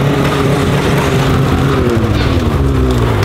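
Snowmobile engine droning loud and steady while riding a ditch, a continuous close-up motor roar with rising harmonic pitch throughout.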